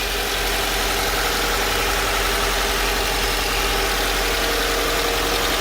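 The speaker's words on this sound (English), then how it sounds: "the engine is just winding down a bit now from that high idle off the cold start" 2015 Subaru Forester 2.5i engine idling after a cold start, a steady close-up mechanical hum and rattle that stays even and uninterrupted throughout.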